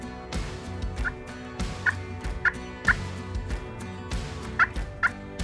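Soft, sharp clucks from a slate pot turkey call sound at irregular intervals, fairly close and quiet, with no talking.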